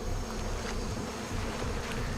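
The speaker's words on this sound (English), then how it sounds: "Creepy bees are all crawling around." Swarming bees in the video game Massive Chalice, a dense continuous insect buzz with a low rumbling bed underneath, steady and even throughout.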